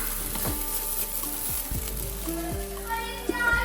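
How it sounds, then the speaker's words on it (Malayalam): Rice roasting in a pan makes a soft, steady sizzle with a few stirring scrapes, while a voice can be heard nearby. "അരി ഇങ്ങനെ നല്ല പോലെ വറുത്തെടുക്കണം"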